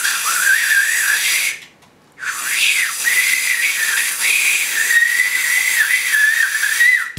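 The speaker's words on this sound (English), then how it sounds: "how to get that whistle sound the first second." Someone whistles by mouth, a high, slightly wavering tone that breaks off briefly near the start and then resumes, sustained and close up, with no speech.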